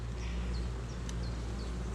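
Bees buzz steadily around a hive, a dense, continuous hum with a few individual insects whining past close by.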